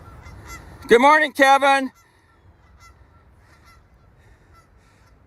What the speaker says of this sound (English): I hear some geese.